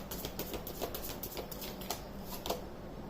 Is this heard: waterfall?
no